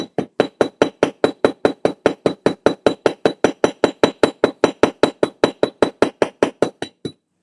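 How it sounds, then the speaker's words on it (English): Steady, evenly paced hammering on a metal rivet to mushroom its head during jewelry making, about thirty sharp, bright, ringing taps in rapid succession, close and loud with no talk. "You're going to keep riveting it down."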